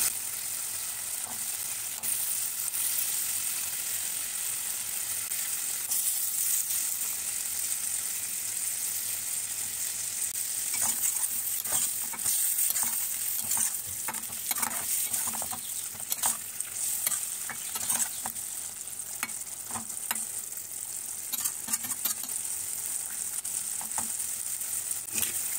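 Pointed gourd (potol) frying in oil in a pan, a continuous bright hiss with scattered crackles and stirring scrapes growing busier midway, close and fairly loud throughout.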